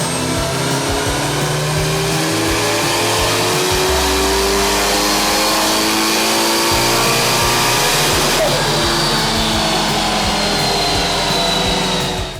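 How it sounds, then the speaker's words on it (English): A turbocharged Toyota Sera engine makes a loud, sustained power run on a dyno at 0.4 bar boost, its pitch climbing steadily through the revs before cutting off at the very end. "this first power run is just a safe lower boost run to check that the car is running right under load"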